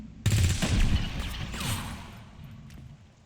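XCOM 2 video game gunfire: a sudden loud burst of rapid shots followed by a decaying rumbling tail, with no talking.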